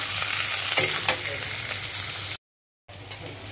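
Potatoes fry in a pan with a loud, close sizzle and stirring scrapes, briefly cutting to silence before the frying resumes.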